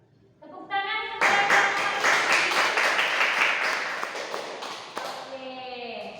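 Students in a classroom break into loud, dense clapping that swells quickly and holds steady for several seconds before thinning out, with a teacher's voice heard briefly before and after.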